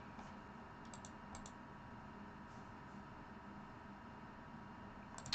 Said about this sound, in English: If I had a silent but springy keyboard, it would not slow me down, Rich.